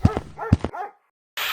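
A dog out on a walk gives two close, loud barks in quick succession, each trailing into a short whine, then brief silence before a burst of noise.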